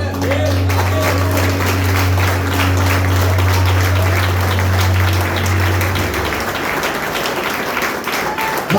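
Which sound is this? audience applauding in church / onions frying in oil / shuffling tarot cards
audience applauding in church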